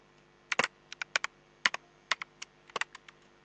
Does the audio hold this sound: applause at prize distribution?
no